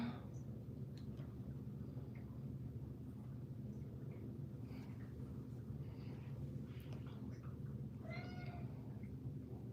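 A cat meows faintly and briefly near the end, set against a steady low rumbling background hum in an indoor room.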